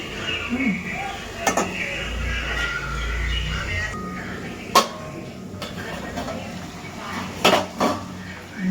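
A metal lid set down on a pot of mutton curry, giving a few sharp, separate clanks spread across the stretch over a low kitchen background, with a soft voice talking at times.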